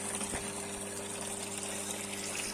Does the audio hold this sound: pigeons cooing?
no